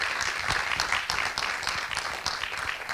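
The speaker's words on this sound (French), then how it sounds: "je pense qu'on peut déjà applaudir nos invités pour la qualité de leur débat" An audience at a football and citizenship conference applauds the debate guests, with dense, continuous clapping throughout, heard from some distance at a moderate level.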